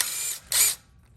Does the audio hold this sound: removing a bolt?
yes